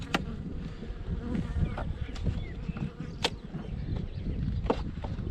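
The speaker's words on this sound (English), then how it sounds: "Lovely calm bees." Honey bees buzz close by during a hive inspection, a low hum of many insects with individual bees zipping past the microphone now and then.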